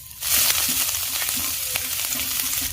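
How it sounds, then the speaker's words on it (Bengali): Chopped garlic and ginger are dropped into hot oil and burst into a loud, close sizzle. The frying holds steady with a few small pops and stirring taps. "এবার দিয়ে দিচ্ছি হাফ চা চামচ রসুন কুচি হাফ চা চামচ আদা কুচি"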